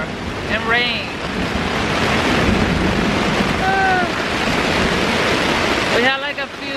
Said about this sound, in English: It's raining like crazy all night.